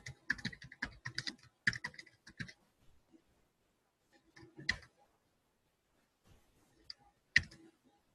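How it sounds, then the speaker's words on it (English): Mouse and keyboard clicks on a computer come in quick close bursts of sharp taps, then a few isolated clicks separated by quiet pauses, with no talking. "I'm trying to click this button."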